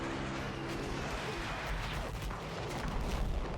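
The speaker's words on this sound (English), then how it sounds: "One more grenade should do it." A grenade explosion in the Battlefield 1 game, a dense roaring blast with rumbling low-end debris over a continuous battlefield din, loud and sustained across the moment.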